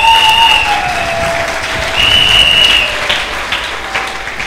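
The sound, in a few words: congregation applauding and cheering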